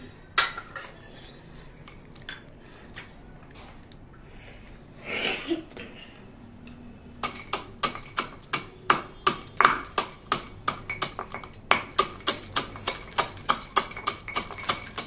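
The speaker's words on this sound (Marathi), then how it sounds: "हा लाकडी माझ्याकडे खलबत्ता आहे, हा खास ड्रायफ्रूट साठी आणला होता मी. आता हा याच्यामध्ये हे बदाम सगळे कुटून घेते." Almonds pounded in a wooden mortar with a pestle for a homemade almond shake: a long run of sharp, regular knocks, clustered and rhythmic in the second half, close and fairly loud, with no talking.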